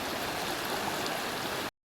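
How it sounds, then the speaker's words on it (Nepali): The Tangkhuwa river stream flows near Dhankuta, a steady broadband rushing of water close by, continuous and even, cutting off abruptly at the end with no voices. "ताङखुवा खोला यही हो ताङखुवा खोला भनेको"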